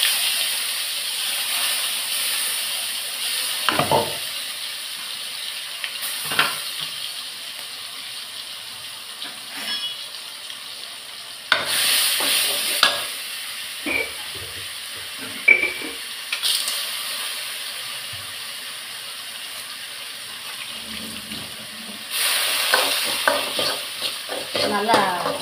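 A ground spice paste sautéing in oil for rasam, a steady sizzle broken by repeated stirring scrapes and spatula knocks, with louder frying bursts now and then.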